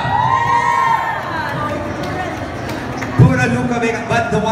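A crowd cheers and whoops at a red carpet premiere night, a loud sustained roar of voices with shouting and an announcer speaking over it.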